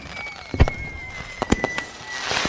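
Fireworks go off for a Fourth of July celebration, with loud sharp bangs and crackling pops spread over a couple of seconds, some thuds near and heavy, others lighter, ending in a soft hiss.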